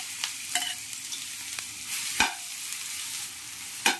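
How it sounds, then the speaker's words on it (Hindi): Finely chopped garlic dropped into hot oil for a restaurant-style Chinese bhel, a soft steady sizzle with a few sharp clinks and scrapes of a spoon stirring the pan. "तेल गरम हो जाने के बाद उसमें हमें लहसुन डालना है"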